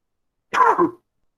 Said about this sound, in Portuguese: Tosse de fumante, credo.